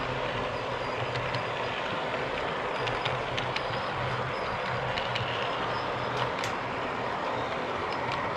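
Model train rolling steadily along a layout's main line and over a crossover, a continuous rumbling run with faint clicks and light squeaks, close and unbroken throughout.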